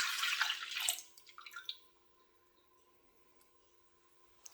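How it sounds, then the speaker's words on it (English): Soya milk is poured into a small bowl, a close liquid splashing and trickling for about a second or two, tapering into drips against a faint steady hum. "we're going to pop the soya milk into the bowl"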